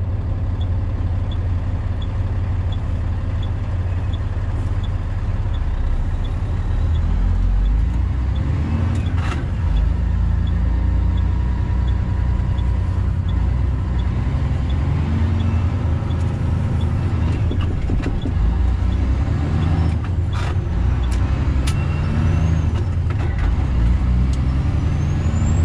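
A big rig truck hauling a floating 8-ton shovel drives along a road, its engine droning loudly and steadily close by, with sharp hissing bursts like air brakes releasing now and then.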